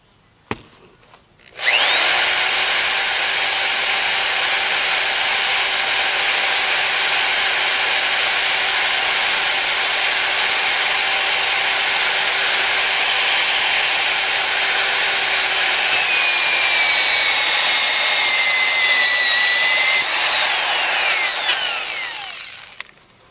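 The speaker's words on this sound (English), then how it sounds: "go ahead and drill it" A power drill bores a 3/4 inch hole through a thin, flat metal well cap for a hand pump: a loud, steady, high whine held for about twenty seconds, then winding down, with no talk.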